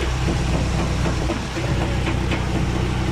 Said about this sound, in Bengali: এই যে ইঞ্জিনে ফ্যান ঘুরতেছে